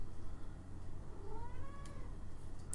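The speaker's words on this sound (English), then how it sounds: "He's giving me some meows." A cat gives a drawn-out, rising meow, fairly faint against a steady background hum, with a second soft mew near the end.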